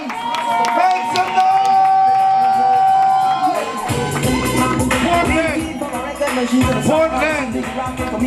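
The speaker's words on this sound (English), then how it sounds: "a resounding round of applause, please. Make some noise!" A crowd at an outdoor peace concert in Portland, Jamaica cheers, whoops and shouts in a loud, lively swell, while an announcer's amplified voice carries over the noise.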